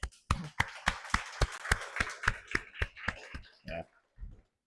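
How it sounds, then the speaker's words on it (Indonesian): A small audience claps in a quick, regular rhythm for a few seconds, close and fairly quiet, thinning to a couple of last claps before it stops. "Mungkin tepuk tangan semuanya"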